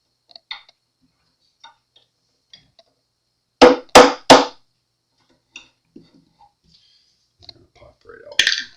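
Metal tuner bushings on a 1963 Gibson ES-120T headstock popping out in three sharp, close clicks in quick succession, set among sparse lighter taps and bits of quiet handling in a near-silent room.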